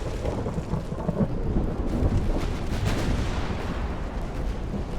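Two torpedoes strike the warship David at once in Ultimate Admiral: Dreadnoughts, an 1890-era naval game, producing deep, thunder-like rolling booms that rumble continuously and swell in the middle, loud with no talking.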